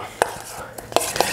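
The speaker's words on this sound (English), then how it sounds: "We can just give that a mix." A spoon mixing an Indonesian soy sauce and palm sugar dressing in a bowl, with a few sharp clicks and taps against the side over soft swishing.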